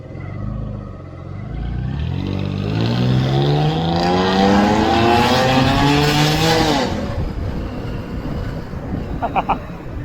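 A Dodge car on a night ride revs its exhaust, the engine note climbing steeply in pitch to a loud roar, then dropping away into a rumbling idle with a few sharp pops.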